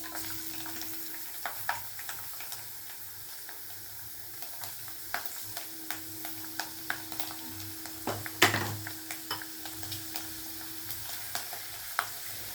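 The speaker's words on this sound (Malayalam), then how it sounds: "വെളുത്തുള്ളി ഒരു ലൈറ്റ് ബ്രൗൺ കളർ ആവുന്നിടം വരെ ഒന്ന് ജസ്റ്റ് ചൂടാക്കുക." Chopped garlic frying in hot oil with mustard seeds for a Kerala-style mango pickle, giving a steady low sizzle with scattered small pops and crackles and one louder burst partway through; no one speaks.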